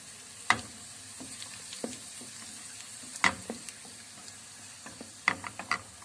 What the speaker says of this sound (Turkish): 2 yemek kaşığı sıvı yağımı ekledim. İçerisine nanemi ve pul biberimi de ekleyip kavurmaya bırakacağım.